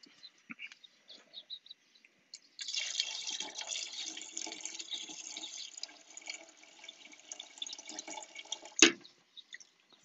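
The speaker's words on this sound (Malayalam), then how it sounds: "ഇതിലേക്ക് വെള്ളം ആടി." Water poured into a pot of cooked mutton and rice, a steady splashing pour lasting several seconds after a few small drips, ending with a sharp clunk, with no talking.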